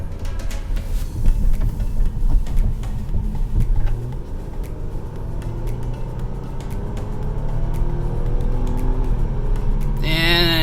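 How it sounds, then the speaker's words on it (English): A supercharged 2012 Audi A7 engine pulls hard under acceleration, a rising supercharger whine climbing over a steady road rumble, loud and close. "you hear that supercharger? Sounds so good."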